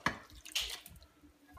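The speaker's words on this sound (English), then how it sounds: "Now I'm gonna pour the Rotel." Canned Rotel tomatoes pour from the can into a crock pot holding cheese, giving a couple of soft wet plops and slops, close and fairly quiet.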